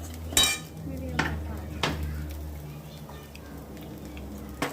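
A spoon scraping and clinking in a pan while a beans and lentil mixture is stirred and sautéed, several sharp metallic knocks spaced a second apart over a faint sizzle, with light speech in the background.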